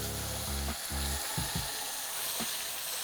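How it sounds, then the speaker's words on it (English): Chuck roast for birria tacos sears in a hot pan, a loud, steady sizzle with a few heavier low bursts as the meat settles in, no voices. "We're gonna remove these and then add our chuck roast."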